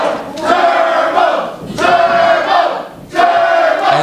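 A professional wrestling crowd cheers loudly behind a wrestler, the roar surging in three strong, voiced, chant-like waves with brief dips between them.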